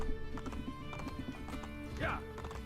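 Horse hooves clip-clop steadily while ridden in the game Assassin's Creed Brotherhood, with a brief whinny near the end, heard under background game sounds and voices.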